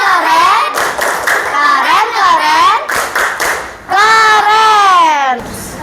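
Children in a classroom perform a rhythmic patterned group clap, sharp claps interleaved with their sung, chanted voices, loud and close in short bursts.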